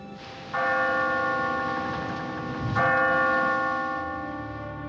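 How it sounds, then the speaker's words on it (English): A bell ringing underwater in an animated children's series about rescue robots sounds two resonant, sustained strikes about two seconds apart, each ringing out loud and clear with a long fading tail, with no talking over it. "Do you hear that? It sounds like a bell."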